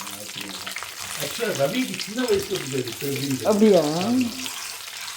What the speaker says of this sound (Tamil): சரி, நல்லா இப்போ பொரிய ஆரம்பிச்சிடுத்து